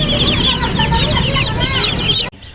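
Young chicks chirp densely in a poultry house, a loud, close, continuous chorus of high peeping that cuts off abruptly near the end.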